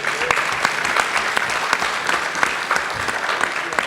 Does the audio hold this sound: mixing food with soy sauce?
no